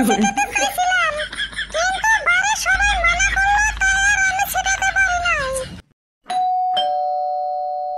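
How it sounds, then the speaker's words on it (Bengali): Animated voices chatter and exclaim, then after a brief silence a doorbell rings loudly with a clear two-tone electronic chime. "কলিং বেলটা বাজতাছে"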